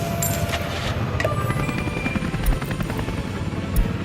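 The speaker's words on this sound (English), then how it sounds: "That's a lot of helicopters." A swarm of helicopters in the Soviet city-building game Workers & Resources: Soviet Republic makes a steady, dense rotor chop with a low rumble that continues throughout, with no voices.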